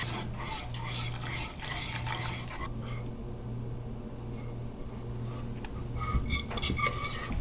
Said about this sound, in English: And you keep stirring it so the cheese is melting nicely evenly.